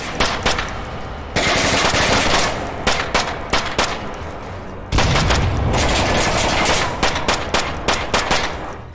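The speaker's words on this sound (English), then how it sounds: "I can actually shred through these bots using single fire mode." A submachine gun fires at bots in the VR shooter Onward, sounding as sharp single shots and rapid bursts with brief pauses between volleys.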